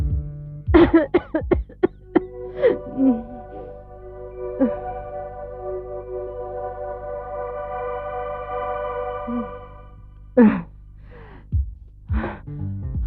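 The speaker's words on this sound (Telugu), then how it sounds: "అనగానే దగ్గొచ్చేసింది" A person coughs in a few sharp bursts near the start and again near the end, with a gasp and sustained voiced sounds between them, close and fairly loud.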